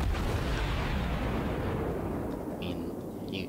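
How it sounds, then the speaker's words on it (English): A naval ship's broadside bombardment in World of Warships, a huge booming roar of heavy guns that rumbles and slowly fades, followed by a couple of faint high clicks. "Another bombardment broadside, whatever you want to call it, going out."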